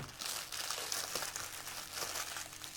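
Crinkling plastic or paper packaging as a parcel of hair accessory craft supplies is unwrapped, a steady close rustle with small crunches and no talk.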